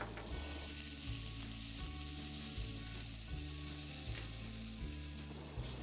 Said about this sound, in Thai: คนส่วนผสมทุกอย่างให้เข้ากัน